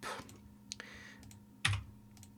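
Keys tapped on a QWERTY computer keyboard, a handful of sparse, close clicks with one sharper, louder press near the end, no voices.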